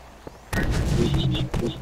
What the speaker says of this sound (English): What? Who's shooting?